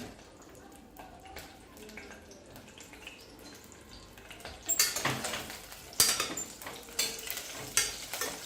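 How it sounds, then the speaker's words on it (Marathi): Brinjals placed into hot oil in a pressure cooker: quiet clinks at first, then louder sizzling with clattering pot and spoon sounds as they are sautéed, with a voice talking over it. "तेल गरम झालं आहे तर त्यामध्ये आपण ही वांगी अशा पद्धतीने ठेवायची आहे"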